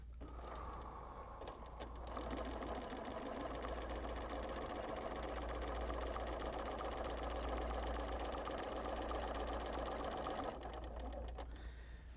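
A domestic sewing machine runs steadily through free-motion quilting, a fast even mechanical whir close by that starts after about two seconds and stops near the end, leaving a quiet low hum.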